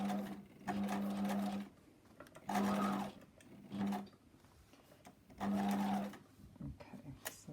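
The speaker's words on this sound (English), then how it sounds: "this is the most tricky part of sewing the bodice" A sewing machine stitches a strapless bodice in short, close whirring runs, several stop-start bursts with pauses between them, under quiet intermittent talk.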